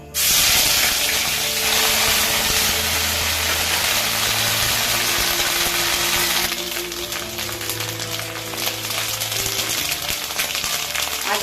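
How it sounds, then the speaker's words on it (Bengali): Ginger goes into hot oil with whole spices in a kitchen pan, setting off a loud, bright hissing sizzle that eases into a steadier crackle partway through, with occasional faint utensil knocks. "আদাটা ছেড়ে দেবো"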